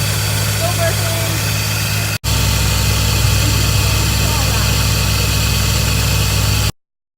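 Mazda RX7 engine idles high at close range, a steady droning hum with a brief dropout partway through, then cuts to silence at the end; a voice may be heard briefly.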